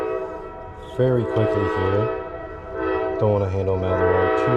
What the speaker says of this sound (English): there's a train going on in the background.